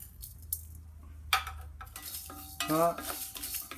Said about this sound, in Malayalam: ഒരു നന്നായിട്ട് വറുത്തെടുക്കുക